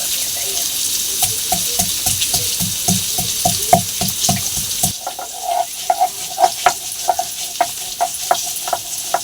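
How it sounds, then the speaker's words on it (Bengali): Potatoes frying in oil with salt and turmeric, a bright sizzle under rhythmic scraping stirs, then quieter frying punctuated by regular spatula taps against the pan, no talk. "নুন হলুদ দিয়ে আলুগুলো ভেজে নেব।"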